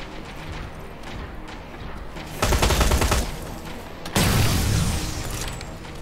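Rapid gunfire bursts in the Terminator Resistance video game, loud clattering automatic fire in two intense stretches over a busy mechanical background.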